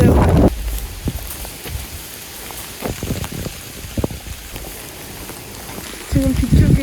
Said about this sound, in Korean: 지금 촬영을 하기가 힘들 정도로 비가 거세지고 있어요